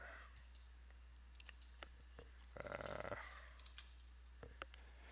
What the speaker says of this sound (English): Keyboard's not cooperating.